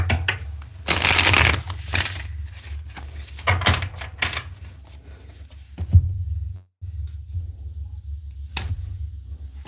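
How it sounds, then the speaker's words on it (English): Cards are shuffled in several crisp riffling bursts, close and loud, with short pauses and soft handling noises between them. "Alrighty, let's get one more good shuffle here."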